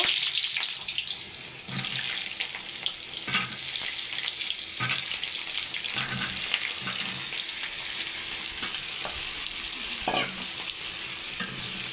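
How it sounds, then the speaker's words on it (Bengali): Pointed gourd pieces frying in oil that was just used for frying eggs, producing a steady close sizzle with scraping stirs and occasional spattering pops throughout, no voices. "ওই তেলের ভিতরে আমি পটলগুলো ভেজে নিব"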